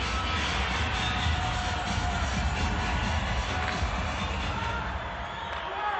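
A packed Denver hockey arena crowd roars continuously during a scoreless NHL overtime between the San Jose Sharks and Colorado Avalanche, a dense, steady wash of cheering and noise without clear breaks.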